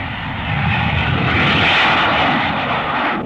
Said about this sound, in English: they can send jet interceptors into the sky toward the enemy